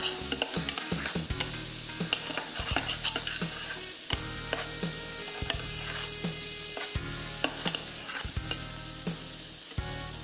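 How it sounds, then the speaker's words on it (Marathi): Chopped tomatoes and coriander sautéed in a pan for veg manchow soup, a steady sizzle broken by repeated rhythmic scrapes and clacks of a spatula, close by with no voices. "थोडे बारीक केलेले टमाटर आणि बारीक चिरलेली कोथिंबीर हे टाकल्यानंतर त्याला आपण परतून घेऊया."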